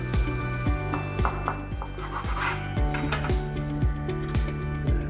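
A knife scrapes and saws through the edges of a bacon-wrapped tortilla on a board, giving a steady run of rhythmic rubbing strokes close up.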